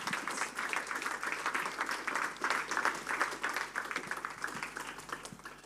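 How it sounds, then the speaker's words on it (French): An audience at an elders' banquet applauding Papa Manassé, a steady wash of many hands clapping together in a room, fairly even and sustained throughout, fading slightly toward the end. "Si on peut applaudir Papa Manassé."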